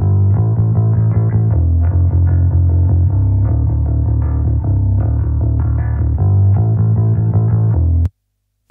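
Deep, thick bass guitar with an Ampeg SVT-style tone and compression playing a steady stoner rock riff, warm and gritty, loud and alone, ending abruptly.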